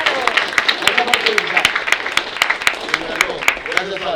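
A classroom of AP Spanish students applauds visiting poet Cesar Sanchez Beras, a dense, steady patter of many hands clapping close by for the whole stretch, with voices talking over it.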